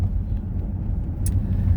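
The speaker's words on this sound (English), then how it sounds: "these cars are just zooming through here like they don't understand." Cars zoom past on a road close by, a loud continuous low rumble of engines and tyres with a brief hiss partway through, no voices.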